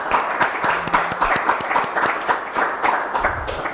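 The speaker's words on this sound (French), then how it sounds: "On acclame quand même pour sa présence" Studio audience applauding a guest on a French-language TV talk show set, steady moderate clapping throughout with faint voices underneath.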